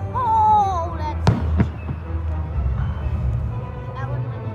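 Fireworks at a car cruise show go off in a few sharp bangs with echoing pops, while people talk throughout and a whistling firework rises early on.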